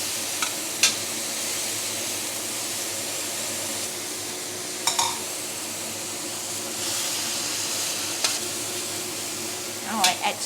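Round cabbage and minced meat stir-fry in a hot pan with a steady, close sizzle, broken every few seconds by sharp scrapes and clinks of a spatula, and no one talking.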